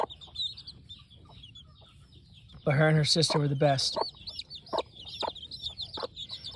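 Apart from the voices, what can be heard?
Hoy Muff gamefowl chickens clucking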